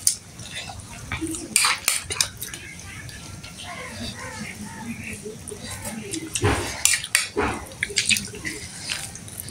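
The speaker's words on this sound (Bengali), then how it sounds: "আমি সবজিও মাখিয়ে নিচ্ছি" Cucumber, carrot and other vegetables tossed and mixed in a bowl, with clinks of utensils against dishware and soft wet squelching, scattered bursts over a steady kitchen background.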